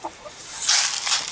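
Rescue hens being fed give a brief burst of clucking and fowl calls, close and fairly loud after a quieter start.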